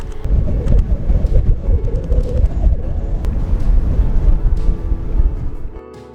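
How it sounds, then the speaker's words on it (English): Strong coastal wind on the Outer Banks in winter buffets the microphone in a loud, continuous, low rumbling roar with gusty swells, fading out abruptly at the end. "It's so windy."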